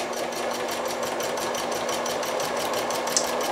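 A sewing machine runs steadily, stitching down and around a bib apron, its rapid even chatter holding a constant rhythm close by with no talk over it.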